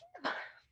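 A single short sneeze, a quick inhale followed by a sharp burst, heard faintly and close, with no talk over it.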